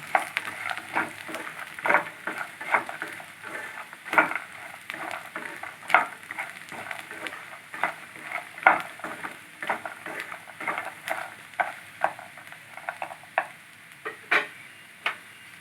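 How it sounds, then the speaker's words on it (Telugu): Onions and makhana (fox nuts) frying in a pan for a phool makhana curry, with a steady sizzle under repeated scraping stirs and clinks of a spoon against the pan, close and moderately loud, no talking. "ఉల్లిపాయలు మఖానా కలిపి కొంచెం ఫ్రై చేసుకోవాలి"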